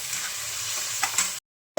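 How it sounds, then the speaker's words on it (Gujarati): Paneer sizzles in hot oil in a kadai, a close, steady frying crackle with a couple of louder pops before a brief cut to silence. "એમાં આપણે પનીર પહેલાં ફ્રાય કરી નાખશું."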